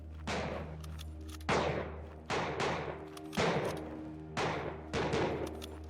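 Soldiers fire guns in the video game MAXIM, with about seven sharp, evenly spaced shots ringing out with decaying tails over a steady low hum, moderately loud and with no talking.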